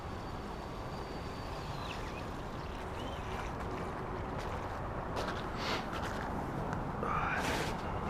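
A steady broadband engine-like drone from a UDI Xiphactinus 17-inch self-righting RC boat running on water, continuous and fairly loud, with faint splashing and brief higher whines near the end.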